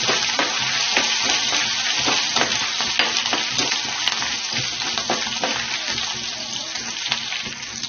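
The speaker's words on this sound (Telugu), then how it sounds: "పోపు వేయించుకుందాం" Tempering of chopped chilli, ginger pieces and curry leaves frying in hot oil for upma, a dense continuous sizzle with crisp crackles and occasional stirring scrapes, fairly close and without speech.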